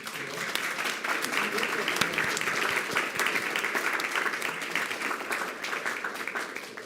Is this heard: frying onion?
no